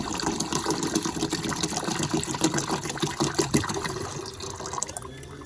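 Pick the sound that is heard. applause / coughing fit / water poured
water poured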